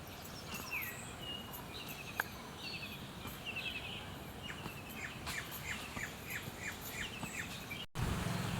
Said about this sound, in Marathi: भात पेरणी सुरुवात केल्यावर तसे पक्षी पण जवळ येऊ लागले आहेत.